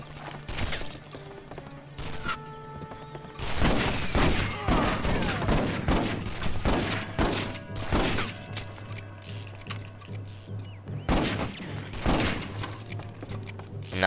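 Gunshots in the Red Dead Revolver video game, sharp reports and bursts of firing over a steady game soundtrack drone, with some thuds between shots.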